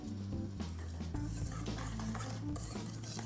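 Faint kitchen clatter as vegan butter is cut into whole wheat flour for biscuits, soft scraping and clinking of utensil against bowl with steady low background hum.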